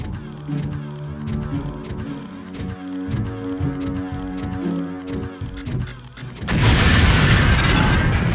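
An explosive charge in the Deus Ex PS2 demolitions training level detonates with a loud, sustained roaring blast, following a stretch of droning music and a few sharp clicks.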